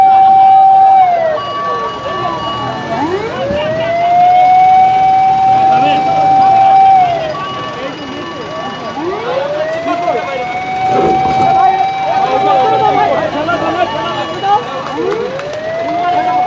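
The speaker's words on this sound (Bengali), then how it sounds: "অবশেষে অ্যাম্বুলেন্সটিকে তারা পার করে দিতে পেরেছেন" An ambulance siren passes along a busy road during street protests, its wail rising and falling in repeated sweeping cycles, loud and close, over traffic noise and background voices.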